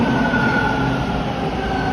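Westbound Line 2 Toronto subway train pulling into a Danforth station: a loud, steady mechanical roar with faint tonal whines running through it, no voices.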